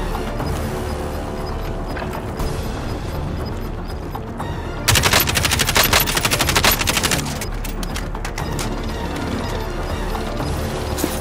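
Video game gunfire, with steady shots under ambient battle noise at first, then a loud, close burst of rapid automatic fire in the middle before it drops back to scattered background shooting.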